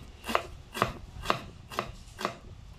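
A knife finely chops carrots on a cutting board for lumpiang shanghai, five crisp, evenly spaced chops close by with no talking.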